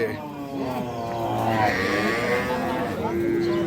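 Dairy cows at the Ambari cattle market in Dinajpur, Bangladesh, moo loudly and close by, long drawn-out calls overlapping one another against steady market background noise.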